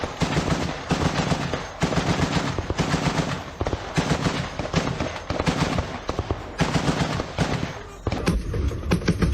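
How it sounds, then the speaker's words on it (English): A 50 caliber machine gun fired from a Humvee turret in wartime Ukraine, loud close bursts of rapid heavy shots with brief pauses between strings, continuing through to the end. "We see him on a Humvee firing his 50 caliber machine gun."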